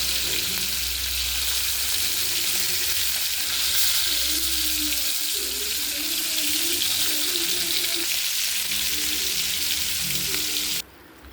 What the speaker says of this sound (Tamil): அது சாம்பார் வச்சுட்டு இந்த பக்கம் மீன் பொரியல் மீனை திருப்பி போட்டுக்கலாம்